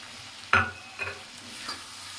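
About half a kilo of prawns stirred in a frying pan, with a soft sizzle under three distinct scraping stirs, the first loudest and the rest fainter.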